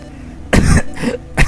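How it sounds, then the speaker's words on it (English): A character in the Mother 3 video game coughs in a few harsh bursts, loud and close, with no talk over it. "Got a coughing problem, it looks like now."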